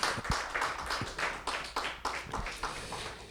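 A church congregation clapping together during a French-language sermon, a rhythmic series of sharp hand claps at a brisk steady pace in a reverberant room, moderately faint with no voices clearly heard.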